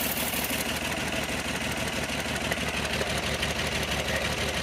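A 1975 Plymouth Duster engine idling with a rough, uneven rhythm, its steady chugging punctuated by irregular stumbles from a misfiring cylinder, with an exhaust leak.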